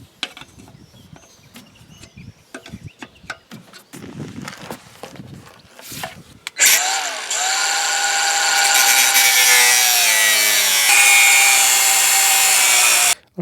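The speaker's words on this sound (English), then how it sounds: "I forgot to mention that you have to cut" A power tool cuts the wheel studs on a Ford Transit mk1/2 front axle while fitting wheel spacers. It begins with scattered clanks and handling noises, then becomes a loud, sustained grinding whine that continues for about seven seconds.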